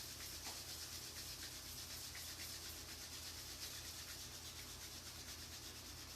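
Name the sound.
rubbing palms together strongly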